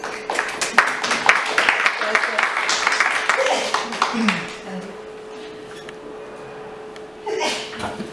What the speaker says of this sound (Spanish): Recibamos por favor con un fuerte aplauso a la doctora Tania Arenas Reséndiz